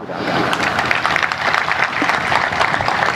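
Audience at a religious satsang gathering clapping, a dense, steady burst of applause from many hands, fairly close and loud, with no pause across the short stretch.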